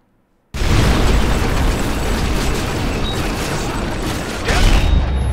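Gunfire and explosions in the PC video game Call of Duty: Modern Warfare 3, a dense, loud, continuous wash of shots and blasts that bursts in abruptly after a brief silence and stays heavy throughout, with a stronger surge near the end.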